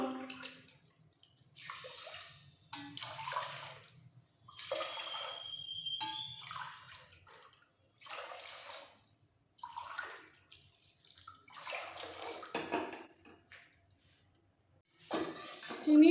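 Four cups of water are poured into sugar in a cooking pot for rasgulla syrup, coming in several separate splashing pours with quiet pauses between them, close by.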